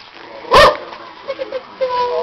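A dog lets out one loud, sharp bark up close, followed by fainter yips and whines while people talk nearby.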